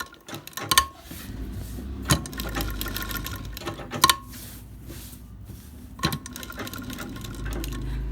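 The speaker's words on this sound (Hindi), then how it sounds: "उस आउटलाइन के ऊपर हल्के हाथों से आप सिलाई लगाते हुए चले आएं" A sewing machine stitches a blouse patch along its outline in short runs, a close steady hum broken by sharp clicks and knocks between bursts.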